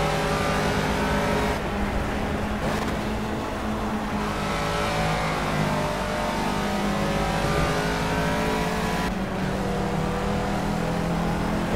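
A Caterham race car in the racing game Project Cars, its engine revving and droning continuously as the gears shift, with brief dips in pitch between sustained high-revving pulls.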